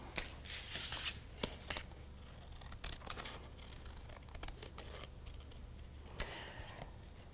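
Scissors snip through paper while a dog's tongue is cut out for a kids' art project, a close, quiet series of crisp irregular cuts and rustles over a faint room hum.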